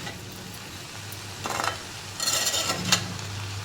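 Cowpea pods simmering and steaming in a pan with a soft, steady sizzle, interrupted by a few brief stirring scrapes and clinks of a utensil against the pan.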